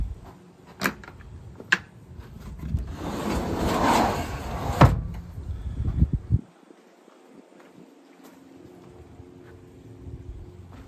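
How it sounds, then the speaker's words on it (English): A sliding door rolls open along its track with a rumbling glide, a few knocks before and a firm thud as it stops, then near quiet. "So that slides open."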